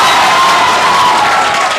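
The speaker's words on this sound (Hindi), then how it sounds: "जबरदस्त जोरदार ताली और स्वागत करो" Loud, dense applause from a large crowd fills the room, continuous clapping mixed with cheering, welcoming the daughters, top JEE Main exam scorers, at a celebration event, steady and close throughout with no break.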